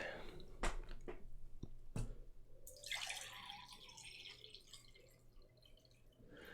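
Water pours out in a splashing stream after a few sharp knocks and drips, the gurgling flow tapering off over several seconds.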